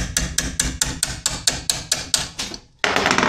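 A hammer taps a small wrench that is fitted over the screws of an LG top-loading washing machine to loosen them. About a dozen sharp, close metallic knocks come in a steady rhythm, then a short pause, with no talk.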